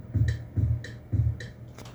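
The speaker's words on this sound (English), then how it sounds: "So first I added something called the Elma tom." A deep Elma tom drum sample thumps three times at an even, steady pace, each hit paired with a lighter tick above it, followed by one more faint click, with no voices.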